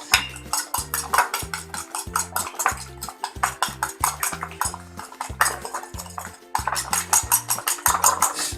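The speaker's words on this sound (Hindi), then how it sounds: "अच्छी तरह फेंटेंगे खूब" Eggs are beaten hard for an omelette in a bowl, the utensil striking its sides in a fast, steady rhythm of bright clinks, close and loud with no voices.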